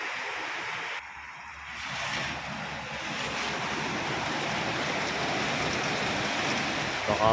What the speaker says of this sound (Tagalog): Walang tigil ang ulan ah.